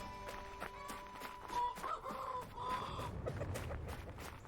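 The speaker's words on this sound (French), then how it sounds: "Je vais recruter des poules." Chickens cluck in the video game Cloudheim, a busy run of short bird calls set over game music and continuous in-game background sound.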